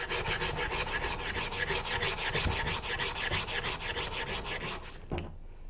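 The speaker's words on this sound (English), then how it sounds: "When we scrape this thin oxide layer, the oxide layer gets scraped off." Steady back-and-forth scraping of a metal surface to strip its dull oxide layer, a close, rhythmic rasping of even strokes that runs continuously before stopping abruptly near the end.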